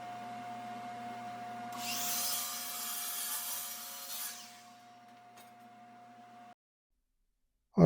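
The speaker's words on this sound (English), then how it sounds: "I'm going to get it onto my miter saw, make some rough cuts" A miter saw makes a rough cut through a wooden board for an end-grain checkerboard cutting board, a whining blade rising into a loud, grinding rip for a few seconds, then winding down over a steady background hum before the sound cuts off.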